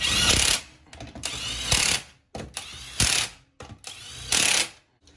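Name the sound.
Classic Mini drum brake adjuster clicking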